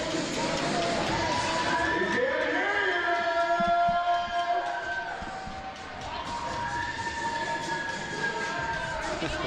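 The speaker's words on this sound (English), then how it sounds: "Maybe a small crowd, but it's a loud one." A small but loud crowd at a college basketball consolation final between Georgian and Redeemer roars and cheers continuously, with whistle-like tones and shouts rising above a dense wash of noise.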